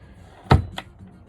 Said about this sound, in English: this damn door, the latch broke.